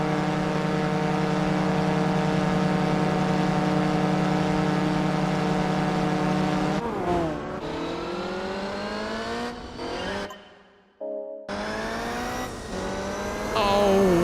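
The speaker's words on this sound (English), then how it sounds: "Oh, listen to that engine." A race car engine in Gran Turismo 4 drones at a steady high pitch, then revs and shifts through gears with rising whines, briefly cutting out before climbing again, loud and close with no talk over it.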